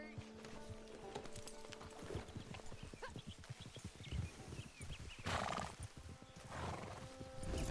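Rapid hoofbeats of several horses galloping in the video game Red Dead Online, a horse whinnies, and voices talk over the drumming hooves.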